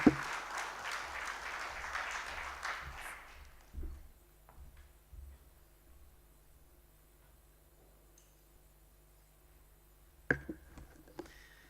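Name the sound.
audience applause at forum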